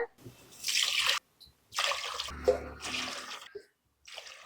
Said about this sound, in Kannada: ಈಗ ನಾವು ನೀರ್ ಹಾಕಂದ್ರೆ ಇದಕ್ಕ